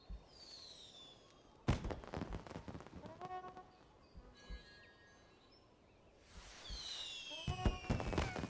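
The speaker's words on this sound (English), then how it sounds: "Oh my gosh, fireworks! They're throwing fireworks on us." Fireworks bursting in the game Sky, sharp cracks followed by whistling and crackling trails, with quieter pops in the middle and a dense, louder volley toward the end.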